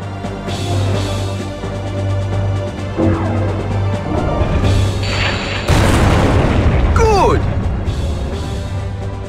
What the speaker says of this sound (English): Press the triangle button to fire your Meganite's beam weapon. Vavel fires the Haken laser.